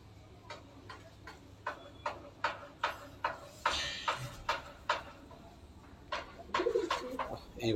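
Tippler pigeons in a loft give soft, rhythmic coos and pulses at an even, ticking pace, close to the microphone, with some rustling and a brief voice in the background.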